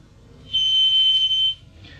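A shrill microphone-loudspeaker feedback shriek sustains for about a second at a single piercing pitch, rising abruptly and cutting off cleanly over a low background hum.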